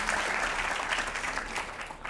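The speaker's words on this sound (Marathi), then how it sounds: "सरांसाठी एकदा पुन्हा जोरदार टाळ्या झाल्या पाहिजे" A college audience at an entrepreneurship event gives the speaker a loud, sustained round of applause, thick and even throughout, easing slightly toward the end.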